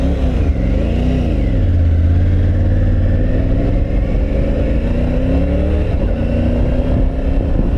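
A 2022 Triumph Tiger 900 Rally Pro motorcycle pulls away with a loud, steady engine drone. The pitch rises and shifts through the gears under heavy wind rush, heard close and with no voices.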